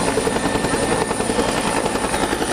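A helicopter hovers at an air show in Rivanazzano, its rotor producing a steady, rapid thudding chop over a continuous engine roar, loud and sustained throughout.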